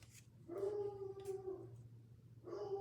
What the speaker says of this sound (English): Oh my gosh, that dog.